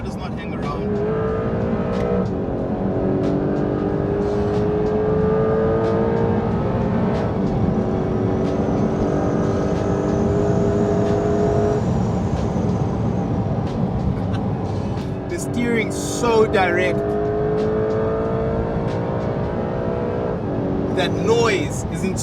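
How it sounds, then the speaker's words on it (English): A 2025 Porsche 911 Carrera GTS engine revs and pulls hard through gears on a twisty road in the Western Cape, rising and falling in pitch at close range while someone talks over it. "That noise is intoxicating. I mean, seriously, listen to that."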